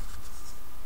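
Markers drawing on paper make a soft, continuous scratchy rubbing that stays steady and close for under a second, with no talking.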